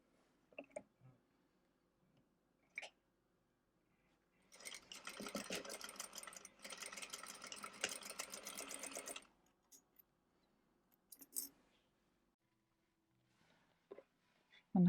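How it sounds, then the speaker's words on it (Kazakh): A sewing machine runs in one burst of about five seconds, stitching the edge of a cosmetic bag with a rapid mechanical rattle. Quiet handling clicks and brief speech come before and after it. "Мына шетін тігемін, сосын аударып аламын."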